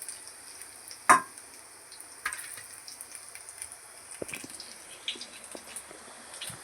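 Garlic cloves crackle in hot oil for a tempering, a soft, continuous close sizzle with a few sharper pops and clinks, quiet and steady.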